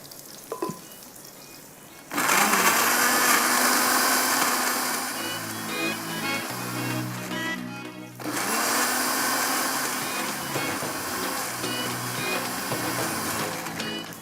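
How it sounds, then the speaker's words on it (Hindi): A kitchen grinder whirs loudly as it grinds garlic, ginger and garam masala into a paste, starting abruptly after a quiet moment, briefly dropping near the middle, then running on steadily with no speech. "लहसुन, अदरक, इसी में मसाले सारे, गरम मसाला, और इसको मैं थोड़ा सा ग्राइंड कर लेती हूँ।"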